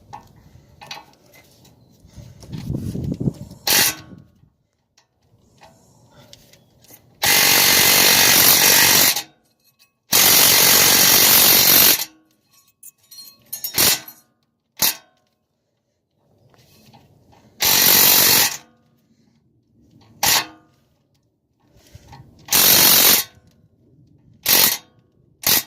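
Snap-on battery-powered impact tool working on the brakes of a 2003 Acura TL, several loud, close bursts of rattling hammering, some long and some very short, separated by quiet gaps with soft handling noises.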